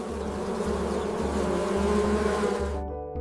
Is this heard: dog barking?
no